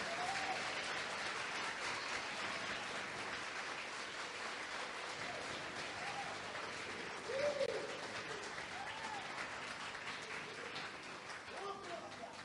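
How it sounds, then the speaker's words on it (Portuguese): Church congregation applauding at a Portuguese-language worship service, a steady broadband patter of clapping that carries through the whole stretch, with voices and shouts faintly mixed in. "Pode aplaudir ao Senhor"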